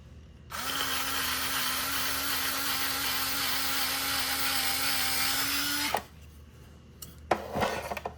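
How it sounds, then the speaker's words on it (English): A cordless electric screwdriver from a 26-piece set with 3-gear torque drills in one continuous whining run lasting about five seconds, close and loud, its pitch rising slightly before it cuts off, followed by a few light handling clicks. "How about drilling? Let's see. Here is drilling."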